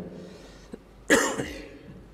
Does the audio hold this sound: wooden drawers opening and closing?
no